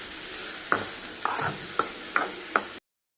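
Onion and chili stir-frying in a pan with mustard seeds, a steady sizzle broken by five sharp spatula taps and scrapes at roughly even intervals, close and fairly loud, ending abruptly.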